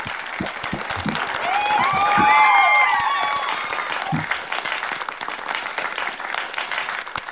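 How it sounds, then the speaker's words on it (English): An audience at a workshop applauds panel speakers, a steady wash of clapping that swells and then slowly thins out, with some whistles or feedback tones and a few isolated claps standing out. "I think we can give a round of applause to all the speakers in this panel session."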